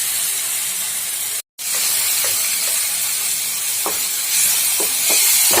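Tomatoes with a pinch of salt fry in a pan, producing a steady, bright sizzling hiss with scattered small pops and a brief cut-out early on.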